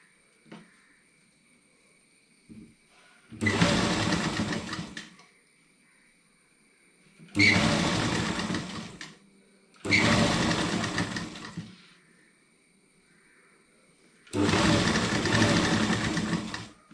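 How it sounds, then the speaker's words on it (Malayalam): A sewing machine stitches the full sleeve of a boat-neck churidar, whirring in four separate steady bursts of a second or two each, with quiet pauses between them. "നമ്മൾ സെൻറ്റർ ചെയ്ത് സാധാരണ സ്ലീവ് തയ്ക്കുന്ന പോലെ തയ്ക്കുക."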